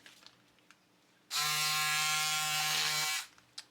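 Electric cordless scissors buzz with a loud, steady motor whine for about two seconds while slicing through a piece of plastic, with quiet handling noises before and after.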